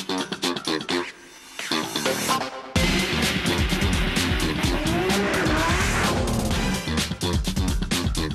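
Drag racing cars launch and roar down a quarter-mile strip at a Lithuanian event, loud continuous engine noise with tire squeal and dense overlapping revving, close and intense throughout.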